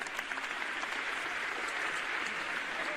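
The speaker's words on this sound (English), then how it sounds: "We give her the round of applause, please." A crowd applauding steadily, dense clapping that fills the space evenly from start to finish with no voices standing out.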